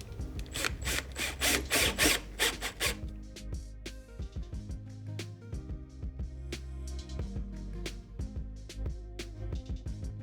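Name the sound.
drilling self-tapping screws into solar panel frame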